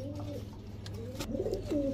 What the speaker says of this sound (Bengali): এখন দেখাবো এক জোড়া কালদম কবুতর